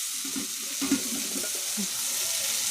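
Soybeans frying in a pan give a steady, moderate sizzle with soft stirring scrapes and a faint water trickle, close and continuous with no talk.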